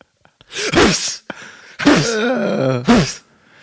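Someone gasps and groans in a drawn-out, strained way with a couple of sharp sneeze-like bursts, close to the microphone, no talking.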